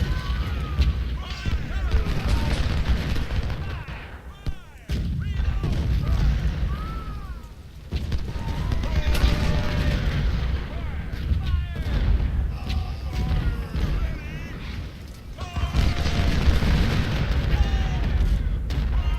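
Artillery fire in the Civil War strategy game Ultimate General: Civil War at Cold Harbor, a dense, continuous barrage of booming cannon and massed musketry that keeps rolling throughout, with voices and shouts mixed into the battle din.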